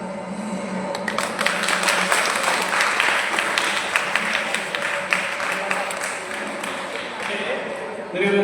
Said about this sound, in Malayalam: ഇത് ഇഷ്ടപ്പെട്ടവർക്ക് ഒന്ന് കൈയടിക്കാൻ രക്ഷിതാക്കൾ